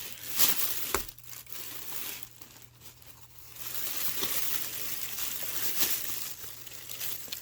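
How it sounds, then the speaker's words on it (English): Plastic wrapping around a thrifted plush toy crinkles close to the mic in several bursts of crackling, with sharp rustles and quieter pauses between handlings. "Sorry about the plastic crinkle"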